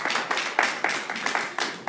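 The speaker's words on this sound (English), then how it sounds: "Let's give another round of applause for Ron Kipling Williams" Audience applause at an open mic poetry night at Virginia Union University, a steady patter of many hands in fairly close rhythmic bursts, with no voices over it.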